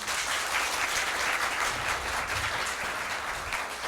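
A school team from a lycée is applauded by the audience at a competition match, dense sustained clapping from a sizable crowd at an even level from start to finish.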